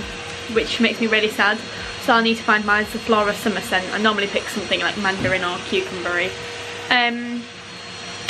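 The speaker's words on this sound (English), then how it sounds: "Sorry about the hoover noise" Hoover vacuum cleaner droning steadily in a home during housework, its hum running underneath someone talking close and loud.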